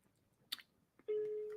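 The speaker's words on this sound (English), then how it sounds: "the phone is ringing" A telephone line clicks twice and then a steady electronic ring tone starts and holds near the end, fairly clear against a quiet background.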